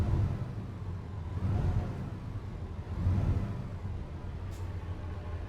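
A heavy truck engine in American Truck Simulator rumbles steadily, rising and falling in two broad surges as it runs up through the low gears, alone with no talk.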